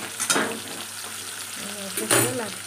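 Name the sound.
bitter gourd and eggplant frying in a pan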